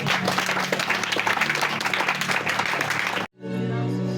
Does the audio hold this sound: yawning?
no